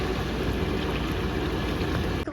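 A Momcozy KleanPal Pro bottle washer runs with a steady, close whooshing wash of water and motor noise, unbroken until it cuts off at the very end.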